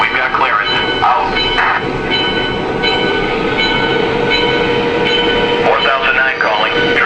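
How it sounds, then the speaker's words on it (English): A Lionel model E7 diesel train rumbles and clatters along the track close by, with radio-like voices talking over the running engine at times. "let's go ahead and get this train running here."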